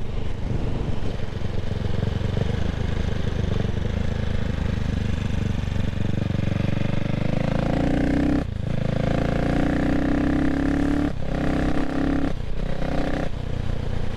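A CCM Spitfire Six motorcycle rides along on a sunny day. Its engine drones steadily and loudly throughout, with rising and falling revs and a few brief gear-change dips toward the end.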